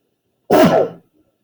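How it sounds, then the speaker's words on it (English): A single sharp sneeze from a person partway through a lesson, short and fairly loud, bursting out and fading within about half a second. "I'm going to sneeze."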